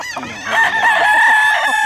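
A rooster crows loud and near, one sustained, shrill cock-a-doodle-doo filling the moment.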